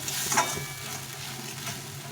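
Raw spice paste frying in oil for a rohu fish curry, a close, moderate sizzle with a brief scrape of stirring near the start, no speech.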